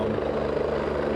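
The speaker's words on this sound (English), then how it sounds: "You can see the helicopter is getting a little bit closer, trying to get above the man on the tree." National Guard rescue helicopter hovering over rushing floodwaters, a loud, steady rotor thump and engine drone held close throughout, with no talk.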